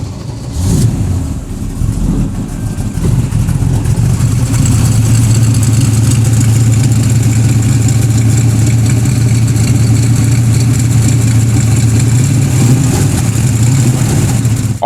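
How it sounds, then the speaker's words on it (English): A 1969 Pontiac Trans Am with a Ram Air V engine runs close by and loud, a steady mid-pitched rumble after a brief rev, holding an even idle throughout with no voices. "The engine does now run and drive."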